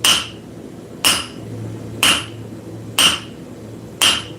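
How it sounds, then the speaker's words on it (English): A forging hammer strikes an anvil in a blacksmith workshop and rebounds off it, giving five sharp ringing blows about one second apart, loud and close, each one leaving a short metallic ring. "And I'm just letting it flick, flick, flick, flick. Using the rebound of the anvil to bring it back up"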